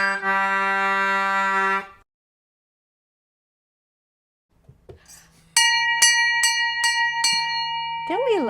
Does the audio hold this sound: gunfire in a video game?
no